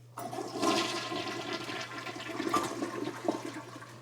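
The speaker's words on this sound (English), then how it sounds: "Flush number 2." A newly installed elevated toilet on a basement platform flushes with a loud rush of water that swirls steadily for several seconds, with a low steady hum underneath.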